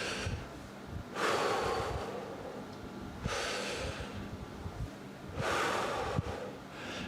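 Three slow, deep breaths, each a long airy inhale or exhale rising and fading at a steady pace, close and fairly quiet, with no talking.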